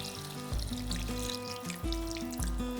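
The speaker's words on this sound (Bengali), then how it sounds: "আমি যেহেতু একটু গ্রেভি চাইছি সেজন্য দিয়ে দিচ্ছি সামান্য একটু জল।" A small amount of water is poured into a pan of pointed gourd (potol) curry, giving a soft splashing pour with a few low gushes, under a background of steady tonal music.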